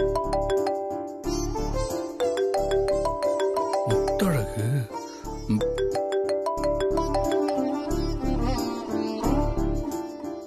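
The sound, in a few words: phone ringing during a call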